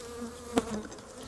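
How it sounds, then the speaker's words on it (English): Honey bees buzzing around a brood frame being shaken during a hive split, a soft, close hum with one brief, sharper burst of buzzing. "I'm going to shake the bees off this"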